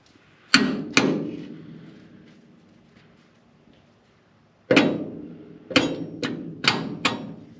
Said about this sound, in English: Where'd my beating hammer go?